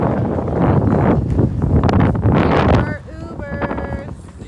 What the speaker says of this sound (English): Chicago is the windy city.